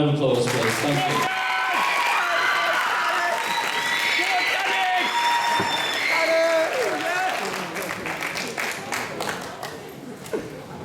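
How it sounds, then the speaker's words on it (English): Audience applause at a school leavers assembly, clapping and some cheering mixed with music and voices, loud and busy throughout before thinning slightly toward the end. "Another round of applause, please."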